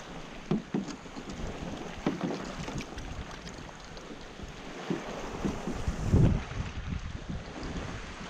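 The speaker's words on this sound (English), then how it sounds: "I'm gonna go ahead and paddle on out" Kayak paddled out through rough sea beside an offshore oil rig, with steady wind rush on the microphone and soft irregular water splashes and paddle strokes, alone without talk.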